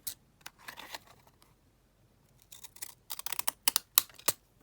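Scissors trimming paper with quick, faint snips and rustles, sparse at first and then a denser run of cuts near the end.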